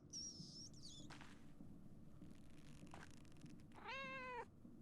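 Cat meowing inside the 16th-century world of the video game Pentiment, one plaintive meow near the start and a longer rising-falling meow near the end, with a steady low game ambience and a couple of soft thuds between.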